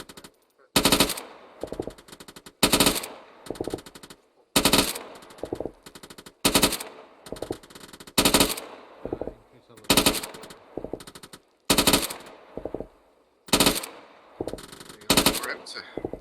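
Repeated bursts of machine gun fire in Arma 3 strike vehicles down a road about 500 meters away, loud sustained volleys recurring every second or two with short gaps between them.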